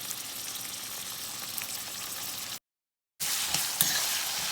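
Chopped whole onion and garlic cloves with cumin seeds frying in hot oil, giving a steady, close, dense sizzle that cuts out briefly and then resumes just as strongly.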